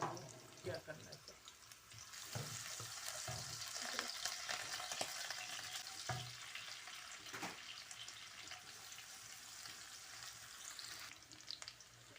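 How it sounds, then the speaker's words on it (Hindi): Thickly cut garlic, about eight cloves, sizzling in hot oil for a tadka: a steady, fairly quiet crackling fry with occasional stirring clicks and scrapes. "अब मैं इसको तड़का लगाने लगी हूँ। आज मैं थोड़ी कर लूँ तेज़, ऑयल गर्म हो जाए, जिसमें मैं ये लहसुन कोई 8 जवे मोटे काटेंगे"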